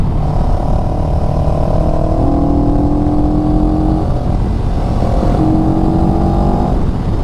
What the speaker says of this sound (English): I like the note on the exhaust. It sounds very nice.